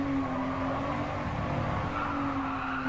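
A Ford GT hypercar in a Gran Turismo Sport race, braking hard into a corner on the final lap: a steady engine drone with a sustained tire squeal across the whole stretch, loud and continuous.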